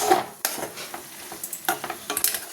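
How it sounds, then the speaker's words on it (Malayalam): Stirring a fish curry with a splash of coconut oil in a pan: a few scraping strokes of a spoon against the pan over a light sizzle, close and fairly clear, with no talk. "ഒന്ന് ഇളക്കി"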